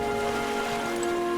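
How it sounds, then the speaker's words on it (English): Steady, fairly loud rainfall in the video game Metaphor: ReFantazio, a continuous hiss with a faint tonal hum from the game underneath and no speech. "This bloody rain."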